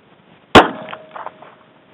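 A SIG P238 pistol fires a single loud, sharp shot of Russian steel-case, copper-washed full metal jacket ammo, followed by a brief metallic ring and faint clatter in otherwise quiet surroundings.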